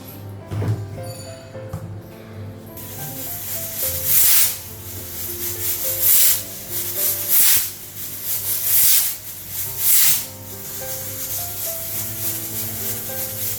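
A pressure cooker with papaya and potato cooked in ghee lets out repeated bursts of hissing steam over a steady background hum, each hiss rising and fading every second or two.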